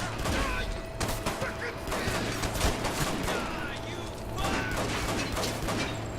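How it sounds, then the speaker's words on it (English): Rapid gunfire from outside in the video game Hatred, dense bursts of shots and mechanical clatter running continuously, loud, with someone talking over it. "Oh, someone's still shooting from outside."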